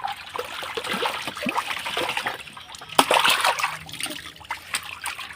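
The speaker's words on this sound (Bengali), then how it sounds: "বলো বন্ধুরা আমরা আগে চান করে নেই" Water splashes and trickles outdoors in a village as a father and young son bathe, with irregular close pours and splatters, one sharper splash midway, and no clear talking.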